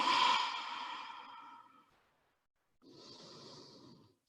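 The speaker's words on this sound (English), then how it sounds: "Inhale deeply. Exhale deeply." A deep, slow exhale during a yoga practice while resting in child's pose: a long, soft breath out that fades to silence, then a second, quieter airy breath follows. Close and calm, with no talking.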